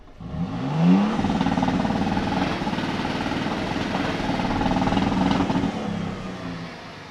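A 2022 Toyota Tundra TRD Pro pickup engine rumbles steadily through its twin left-side exhaust tips, a low droning idle with a slight rise in revs early on, heard from outside at moderate distance.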